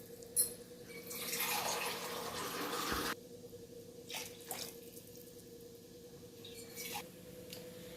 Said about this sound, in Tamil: இப்போ இன்னும் ரெண்டு கிளாஸ் தண்ணி ஊற்றிக்கலாம்